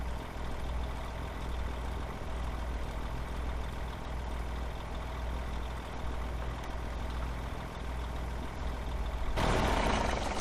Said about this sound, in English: Oh my goodness, that truck is so loud.